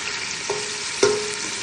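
Onion and garlic fry in a little oil in a pot with a steady, close sizzle, punctuated by a couple of brief clicks and scrapes as they are stirred.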